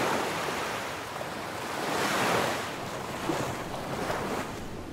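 Ocean surf washes up on a Holden Beach, North Carolina shoreline, a steady broadband rush swelling and receding as waves break and draw back, with wind buffeting the microphone and no voices.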